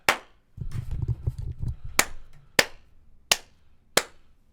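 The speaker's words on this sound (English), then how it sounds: "Let's do a quick clap test" Five sharp, close-up hand claps, unevenly spaced and clearly separated by quiet, with a low rumbling murmur between the first and second.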